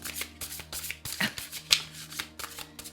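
Tarot cards being shuffled by hand close by, a run of quick papery riffles and soft slaps in an uneven rhythm, with no voice over them.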